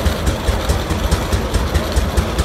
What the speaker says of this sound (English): Another one of our rare tractors is the Alton Taylor. That is a 1915, 103 years old.